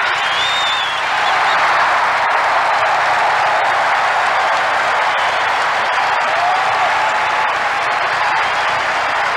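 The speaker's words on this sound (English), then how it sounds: "And the people are applauding" Big ballpark crowd applauding and cheering a record-setting home run by Roger Maris, a dense, steady roar of clapping and voices sustained throughout without letup.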